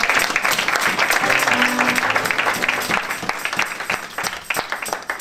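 A church congregation applauding, dense sustained clapping from many hands filling the space steadily throughout.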